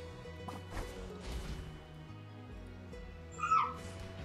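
A puppy whimpers and yips faintly, a few short high cries rising near the end over a quiet background of soft game music.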